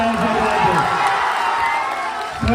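Crowd at a political rally in Bihar applauding and cheering, a dense steady wash of clapping and shouts that holds loud and continuous throughout.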